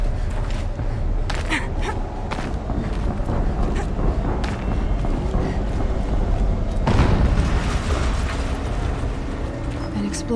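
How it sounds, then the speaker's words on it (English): A distant explosion in Horizon Zero Dawn is heard as a deep rumbling boom beneath steady game ambience and wind, with a stronger burst swelling near the end. "An explosion."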